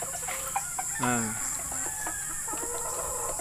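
A chicken clucks several times at close range, with a short rising squawk in the middle, over a steady background hum.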